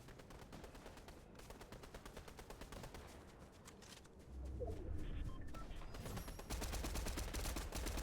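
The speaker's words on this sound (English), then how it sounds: "why are you shooting already?" Rapid gunfire in Fortnite, fast repeated shots in steady bursts, fairly faint and somewhat distant, with a deeper rumbling layer joining partway through.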